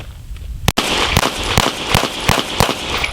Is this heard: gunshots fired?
yes